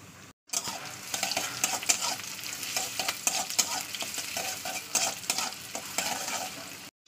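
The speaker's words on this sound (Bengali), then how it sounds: "তেলটা গরম হলে দিয়ে দেবো পেঁয়াজ" Onions frying in hot oil in a kadai: a loud, continuous crackling sizzle close up with scattered spatula scrapes and stirs, no voices, briefly cut off at start and end.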